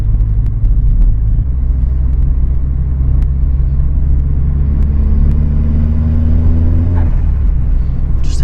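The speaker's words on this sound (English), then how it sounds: "Just that wastegate making a bit of a noise there." A turbocharged Opel Astra Mk4 with a 1.4 engine rumbles steadily at close range, its tone rising under load before a brief hissing whoosh from the turbo wastegate near the end.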